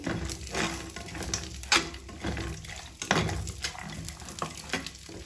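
Cashews, almonds and raisins fry in melted ghee in a pan with a bay leaf and cardamom nearby, a continuous close sizzle broken by loud scraping stirs and clinks of the spoon.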